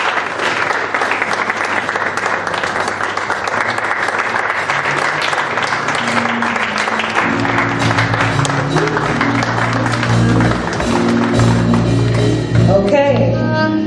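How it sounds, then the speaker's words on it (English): Sustained applause from a church congregation, dense clapping throughout, joined midway by low organ or keyboard music and some cheering toward the end. "Please don't stop clapping as we go back to your seats."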